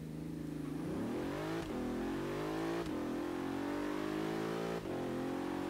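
A Bentley in Forza Horizon 3 accelerates hard from a standstill, its engine note climbing through gear changes in repeated rising sweeps, loud and steady with no talking.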